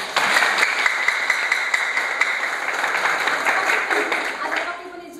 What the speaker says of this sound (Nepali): यहाँहरू सम्पूर्णले जोरदार ताली बजाउनुहोस्